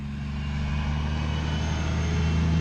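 A truck passing by outside, a steady loud low engine drone and rumble holding level throughout, with no talking.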